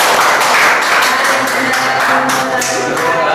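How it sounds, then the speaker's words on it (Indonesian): Classroom of students clapping together, a dense, loud round of hand claps with some rhythmic bursts, sustained for a few seconds. "Tepuk tangan."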